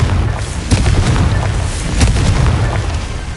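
Confringo fire spell explosion in Hogwarts Legacy: a loud, dense booming blast with crackling bursts that roars steadily throughout, close and without talk.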